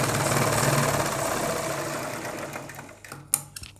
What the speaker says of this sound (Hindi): हमें इसके ऊपर एक सिलाई लगानी है